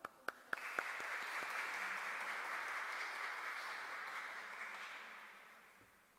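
A congregation at a Eucharistic celebration for the feast of St Thomas the Apostle in Pakistan starts with a few sharp, separate claps, then breaks into steady, full applause that gradually tapers off.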